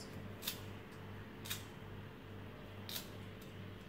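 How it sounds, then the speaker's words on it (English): Scissors snip through a pandan leaf in a quiet kitchen, three crisp, brief cuts spaced apart over a low steady background hum. "I'm going to cut this pandan leaf into"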